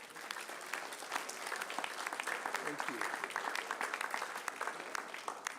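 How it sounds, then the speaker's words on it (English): A city council meeting audience applauds the police chief, a sustained burst of many hands clapping at moderate distance, steady throughout, with a brief spoken thanks over it. "Let's give him a big round of applause."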